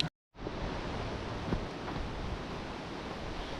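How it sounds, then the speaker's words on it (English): Steady broadband rushing of a waterfall somewhere ahead along a hiking trail, a constant moderate hiss after a brief dropout at the start, with no voices. "I hear some sort of waterfall ahead"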